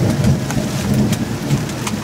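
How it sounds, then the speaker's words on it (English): Steady rain patters on an anchored sailboat during a night thunderstorm, a dense continuous wash with sharp drops striking close by and low rumbling beneath, no voices. "Bit of wind, bit of rain."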